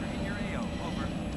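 A helicopter flies in the video game Battlefield 3 during a Conquest match, its steady engine drone and rotor rumble running continuously beneath a man's speech.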